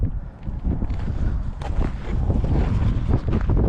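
Cool wind gusting across the open desert, buffeting the microphone with a continuous low rumble and irregular gusts.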